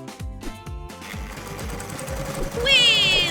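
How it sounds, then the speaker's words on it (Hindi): Sewing machine stitching pieces of jersey fabric for a doll outfit, a rapid mechanical whirring run that grows louder toward the end, accompanied by rhythmic thumping in the background. "इसे सिलाई मशीन से सिलें।"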